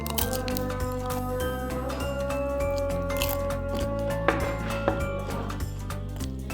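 Crispy fried tofu is bitten and chewed, giving soft crunches and squishy bites set against steady background music, with no talking.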